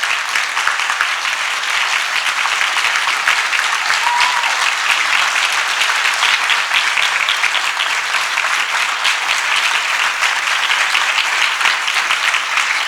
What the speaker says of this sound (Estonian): kõik on püsti ja on suur aplaus neile